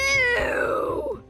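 A single close, loud cat meow with a drawn-out tone that slides downward over about a second, heard on its own.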